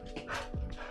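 Indoors, a dog lets out a short bark and whimpering yelp mixed with heavy breathing, close to the microphone and lasting about a second.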